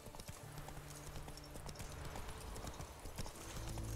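Roach the horse gallops in The Witcher 3, with a fast, continuous drum of hooves and a brief whinny, steady and fairly quiet under ambient game noise.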